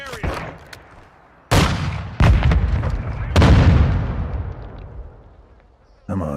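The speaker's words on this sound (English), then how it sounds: "Where are we getting shot from?" Gunfire in Call of Duty Modern Warfare II breaks out in loud, sharp bursts, with several heavy volleys in close succession that decay into a ringing tail, then a fresh burst at the very end.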